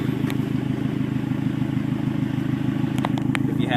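An engine runs steadily after a Sea Foam fuel treatment, with an even, close idle rumble and no sputter. A couple of faint clicks come near the end.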